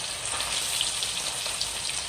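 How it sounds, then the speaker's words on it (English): Steady crackling sizzle of chicken frying in hot oil, a dense continuous hiss with scattered pops, no voices. "I'm going to go ahead and fry all the chicken"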